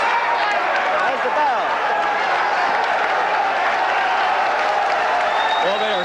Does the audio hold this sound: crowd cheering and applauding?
yes